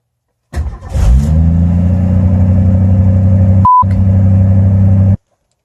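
A Ford Maverick's engine cranks, catches and settles into a loud, steady run right up close, broken midway by a short high tone and cut off sharply at the end.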